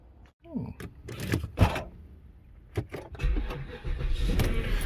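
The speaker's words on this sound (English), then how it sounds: "So, quick test drive and we'll see how it goes." Porsche Cayenne being driven on a short road test after a brake repair, with a door clunk, whirring motor and rising engine and road rumble building steadily near the microphone.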